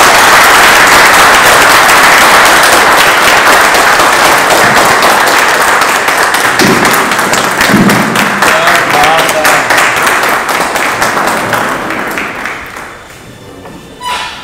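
An audience at a book launch gives sustained, loud applause that runs for most of the stretch before tapering off near the end, with a few voices faintly underneath.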